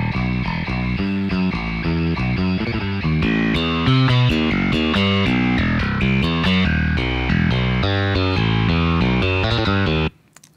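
Distorted bass guitar tones from the Impact Studios bass library play a heavy, gritty riff of sustained notes for about ten seconds before cutting off abruptly.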